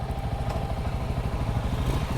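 A motorcycle engine putters steadily nearby in busy city traffic in León, Nicaragua, its low, even pulsing running throughout the short stretch with no voices.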